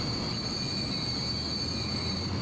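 A freight train from the Transport Fever simulation game pulls out westbound, a steady, continuous rumble of rail cars and wheels with a faint high whine of wheel squeal running throughout, no voices.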